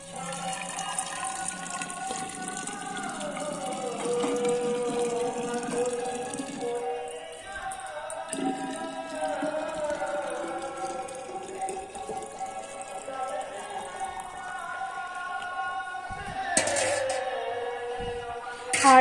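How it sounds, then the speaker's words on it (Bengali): Tap water runs steadily into a container being filled for Tatan's food, a continuous nearby pour under background music that lasts the whole stretch. "এখন তাতানের খাবারের জন্য জলটা আমি ভরে নেব।"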